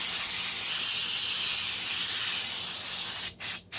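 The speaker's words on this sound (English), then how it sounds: "It's coconut spray." Coconut oil cooking spray sprayed into a frying pan, one loud, close, continuous hiss that ends in two short final bursts, with no talking.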